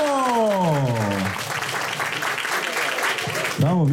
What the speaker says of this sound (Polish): Brawo, wielkie brawa dla Emmy.